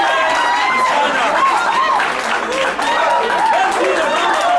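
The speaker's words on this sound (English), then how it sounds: "Let's see the round of applause for the Oracle of Infinity." Sustained applause from a large audience, with steady clapping mixed with crowd noise and cheering voices throughout.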